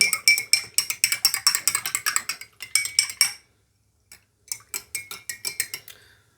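A solution being shaken or stirred in a container during a mixing experiment, a rapid run of loud rattling clinks that stops for a moment and then comes back as spaced taps.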